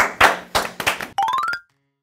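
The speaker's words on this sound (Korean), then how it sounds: "자 박수" A handful of people clap together in a quick burst of four or five loud claps indoors, cut off by a short rising chime-like sound effect and then silence.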